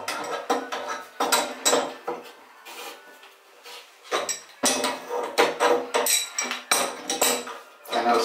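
Crescent wrench tightening a 30-year-old Price Pfister Avanti shower cartridge, giving repeated metallic scraping and clinking in short bursts, close and fairly loud, with brief pauses between turns.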